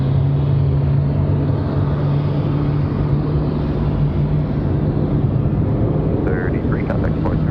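An Air France jet's engines spool up on startup at Raleigh-Durham International, a continuous low hum with a steady droning tone, and brief radio voices come in near the end.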